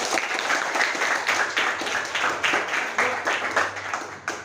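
A class of students applauds a classmate during a lesson, a lively round of many hands clapping in slightly rhythmic bursts, fairly close and steady, then tapering at the end.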